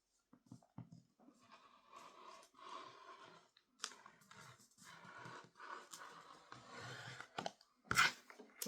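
Scissors cutting fabric for a toddler crossbody purse sewing project, a quiet run of soft crunching snips in short bursts, close and faint, with a sharper clack near the end.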